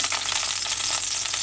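Garlic sautéing in a hot pan for a beef and broccoli stir fry, a soft steady sizzle heard alone for a brief moment.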